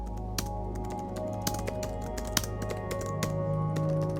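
Rapid clicking of a computer keyboard as someone types a name, a steady run of sharp close keystrokes over a low hum, with no voices.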